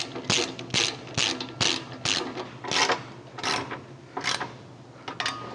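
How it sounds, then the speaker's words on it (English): A ratchet with a T45 socket clicks in quick repeated bursts, tightening skid plate bolts on a Jeep JL Wrangler steel bumper, close and clear with short pauses between strokes. "Once you get both of these loosely threaded, you can go ahead and tighten all of the bolts on this skid plate."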